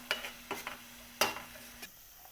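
Fresh curry leaves fry softly in a pan as a spoon stirs and scrapes them, giving a few light clinks and scrapes over a low, quiet sizzle.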